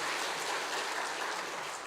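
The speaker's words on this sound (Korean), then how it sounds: "지금 여러분, 우리 하나님께 영광의 박수 한번 올려드리시죠." A congregation claps steadily throughout a Korean church service, a dense, even wash of many hands with no clear individual claps, filling the room.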